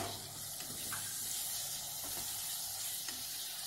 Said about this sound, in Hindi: टमाटर को भी हमें थोड़ा सोते करना है और थोड़ा इसको गलाना है, मैश करते जाना है।